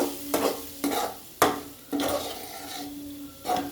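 Potato and brinjal pieces are stirred in a pan of sambar powder as they fry, and several scraping strokes with a spoon come at a rough, uneven rhythm over a soft underlying sizzle.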